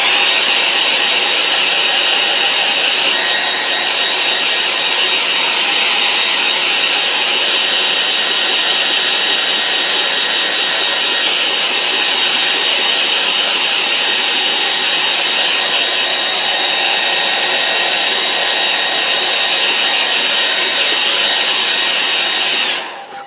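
Hair dryer blowing on a watercolour painting of a West Country coast scene, a loud steady whoosh running close and continuous for over twenty seconds before cutting off abruptly at the end.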